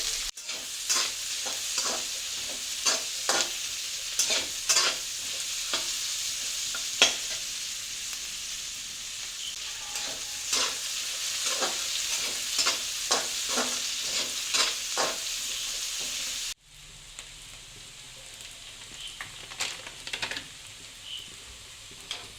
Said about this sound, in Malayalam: എല്ലാം കൂടെ നല്ലപോലെ വഴറ്റിയെടുത്ത്,